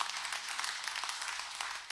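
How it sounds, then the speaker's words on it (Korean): A church congregation at a Korean Sunday worship service claps together, a soft, steady patter of many hands heard from a distance, with no voices over it. "우리 감사의 박수 한번 올려드리겠습니다."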